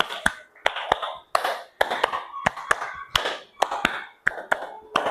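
A class of pupils clapping hands in unison, five sharp synchronized claps in a row separated by short pauses, with a few more scattered claps around them, close and crisp.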